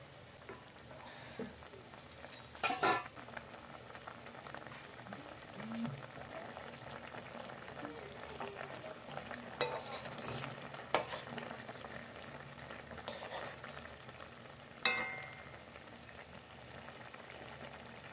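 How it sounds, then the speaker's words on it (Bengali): Spiced khoira fish curry with yardlong beans sizzling and bubbling in a wok, faint steady frying with occasional louder scrapes and clatters as the spices are stirred. "এবার নেড়ে চেড়ে নেব কড়াইটাকে ভালো করে মশলাগুলোকে ছাড়িয়ে ভালো করে নেড়ে চেড়ে নেব"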